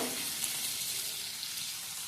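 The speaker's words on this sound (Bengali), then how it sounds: "পেঁয়াজ দিয়ে একটু ভাজা ভাজা করে নেব।" Chopped onion frying in a pan with bay leaves and green chillies for a Bengali potato fish curry, a steady close sizzle with faint stirring, no talk.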